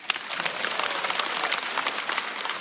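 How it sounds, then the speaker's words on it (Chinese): Sustained audience applause for a stand-up comedian at a comedy show, dense and steady clapping from a large crowd running throughout without any voices over it. "再次掌声送给王小丽。"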